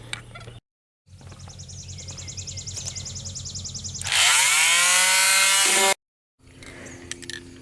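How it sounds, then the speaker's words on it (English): Steady abrasive whirring of a power sander on a wooden cubby shelf, loud and close, with a brief pause, then a louder, harsher stretch of sanding before it cuts off. "Now I'm going to spend a good amount of time sanding this down, getting it nice and smooth and even"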